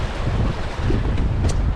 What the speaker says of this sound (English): there is quite a lot of swell here and there is quite a lot of wind